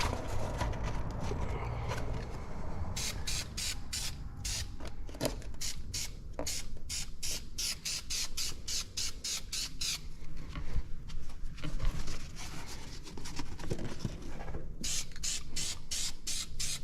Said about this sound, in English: Don't want to get a bunch of overspray on a bunch of stuff.